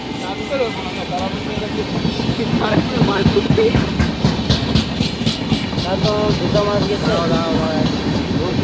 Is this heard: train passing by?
yes